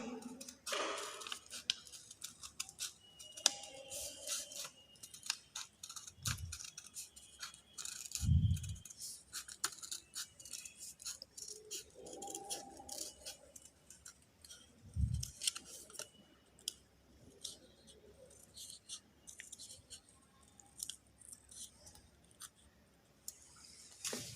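Scissors cut through paper for a children's multiplication craft activity, with crisp, repeated snips and rustles scattered across a quiet room and a few dull thuds in between.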